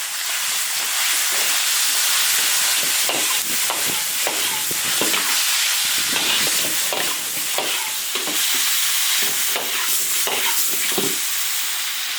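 Octopus stir-frying in a hot iron wok with scallions and chilies, a loud continuous sizzle and steam hiss with frequent scraping and clanking of the spatula tossing the pieces.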